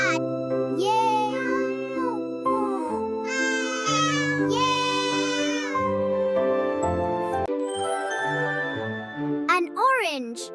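A cat meows repeatedly in drawn-out, rising and falling calls, loud and close, mixed with children's excited voices and cheering.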